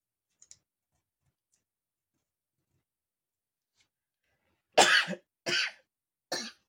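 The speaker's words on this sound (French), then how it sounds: "Il y avait longtemps que j'avais pas toussé." Three loud, close coughs come in quick succession near the end after a long near-silent stretch, with only a faint tick or two heard earlier.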